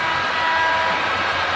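Four automated model trains run on the Granite Gorge and Northern layout, making a steady, loud rolling rumble and clatter over the tracks with no break.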